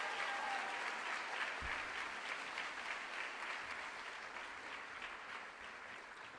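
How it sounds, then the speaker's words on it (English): Sustained, dense applause from a school audience honoring students at a high school honors night fills the hall steadily, loud and continuous with no talk over it. "let's have one more collective round of applause for these outstanding students."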